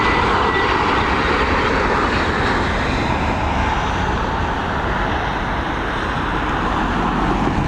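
A TUI airliner arrives at Dublin Airport, its steady, loud jet roar filling the scene without pause and holding a broad, even rumble from start to finish, with no voices over it.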